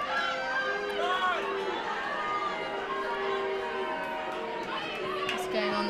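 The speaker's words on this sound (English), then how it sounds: "There's a fair bit of booing happening" Crowd at a varsity hockey match reacting loudly to the umpire's decision, a steady wash of jeering and chatter with voices talking over it throughout.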